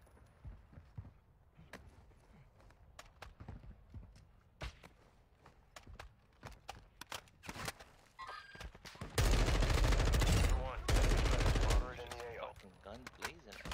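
Video game gunfire in a tactical stronghold raid: scattered single shots through the first half, then two loud sustained bursts of rapid automatic fire around the ninth to twelfth seconds, with footsteps and players talking throughout.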